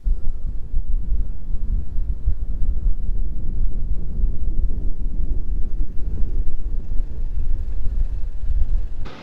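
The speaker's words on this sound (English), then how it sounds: "Now it is pretty windy outside" Strong wind at the top of sand dunes buffets the microphone, a continuous low roar and rumble with no other clear sounds.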